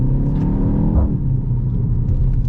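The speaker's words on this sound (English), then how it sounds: "It does like a fake little grunt of a sound for your exhaust system," A 2024 BMW X1 M35i SUV plays a synthetic exhaust burble through its rear speakers, a steady low rumble and grunt with a slight swell partway through, heard from inside the cabin.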